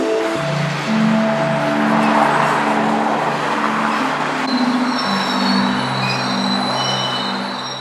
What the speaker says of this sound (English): As this coal train comes to a stop